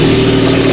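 A Lamborghini SVJ idles loudly close by, its engine giving a deep, steady rumble that stays constant through a brief moment.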